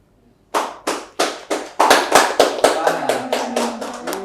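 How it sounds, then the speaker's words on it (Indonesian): A talk-show audience claps in unison, with a dozen or so sharp, close hand claps in a steady rhythm that speeds up slightly after a silent start. A faint tone hums beneath the later claps. "Iya dong, tepuk tangan dulu"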